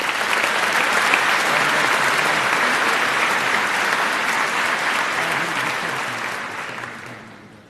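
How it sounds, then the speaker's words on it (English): A graduation audience at a high school commencement applauds the valedictorian with steady, dense clapping that fills the hall, holding loud and even for several seconds before gradually tapering off at the end. "for Aaron, please join me in honoring her with a round of applause."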